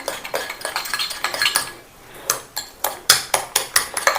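Shampoo and aloe vera gel being mixed in a bowl, with a utensil tapping and scraping against it in quick, uneven clinks that pause briefly midway and then return as sharper, louder strikes.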